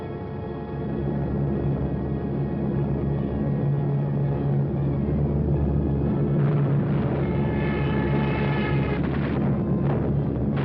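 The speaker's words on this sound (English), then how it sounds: "So the Germans brought up their bombers." German bomber aircraft fly overhead in an old wartime film, their engines making a loud, continuous droning hum that holds steady for about ten seconds.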